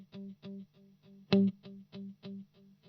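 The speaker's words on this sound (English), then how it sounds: "you can hear how the attack and the whole delay is diffused, more like a reverb" An electric guitar runs through a diffused, reverb-like delay effect, playing a steady pulse of repeated notes with one louder accent near the middle, each note smeared with a soft, washed-out tail.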